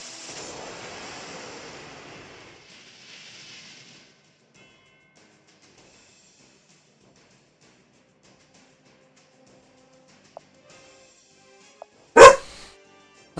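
A dog barks in a single loud, close burst near the end, after broad noisy rustling at the start and a long near-silent stretch with a couple of faint clicks.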